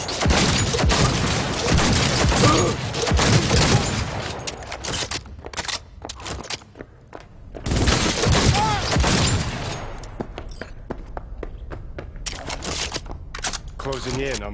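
Bursts of gunfire in the video game Cyberpunk 2077, rapid loud volleys and single shots crowding the whole clip, with voices talking over the shooting at times.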